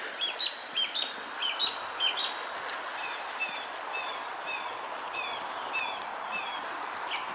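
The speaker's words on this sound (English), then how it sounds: "Little bit of bird song up there, so yeah, they've started their spring song." Small birds singing their spring song outdoors, a string of bright, repeated chirping phrases at moderate distance over a soft breezy background, livelier at first and then settling into scattered calls.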